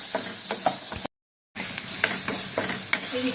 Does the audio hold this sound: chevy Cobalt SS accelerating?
no